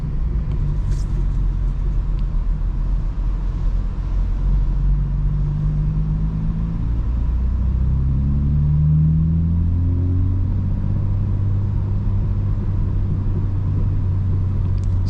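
A 900 hp 2025 BMW M4 Competition xDrive, heard from inside, gives off a deep continuous engine and exhaust drone that climbs and falls through a few gears in the rain.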